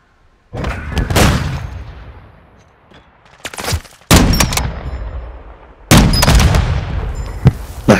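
Sniper rifle fire in Call of Duty: Modern Warfare II: three loud, sharp shots spaced a couple of seconds apart, each with a long booming tail that rolls away into the distance.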